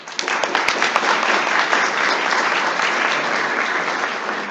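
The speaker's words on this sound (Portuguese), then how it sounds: "eu gostaria de pedir uma salva de palmas para ele" An audience at an urbanism lecture gives architect Anthony Ling a sustained round of applause, dense and even clapping filling the room alone with no talk, fading slightly toward the end.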